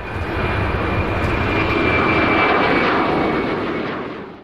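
Engines of an Embraer C-390 Millennium military transport jet roar loud and steady, swelling to a peak mid-clip and easing slightly at the end, with no voices.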